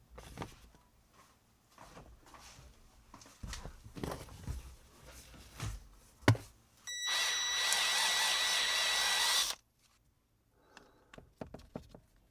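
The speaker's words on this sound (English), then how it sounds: "It's just it's a 20mm hole that you sort of got to drill" A power drill boring a 20mm hole for a simple on/off switch during an LED rock light install, heard as one loud, steady whine lasting a couple of seconds between quieter handling clatter and footsteps.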